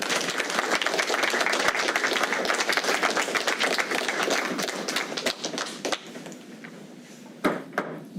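Applause from the audience at a county commissioners' meeting after a public comment against ICE contracts, a sustained burst of many hands that thins out into scattered claps and a few last taps.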